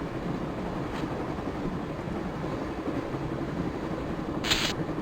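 An electric train in the Broken Sword video game rumbles steadily along the rails, a continuous low, even roar with a couple of brief high metallic squeals.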